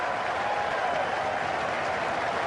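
Australian fans at a cricket match cheering and applauding, a dense, steady roar of clapping from a large crowd that fills the whole stretch at even volume.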